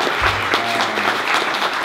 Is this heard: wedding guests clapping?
yes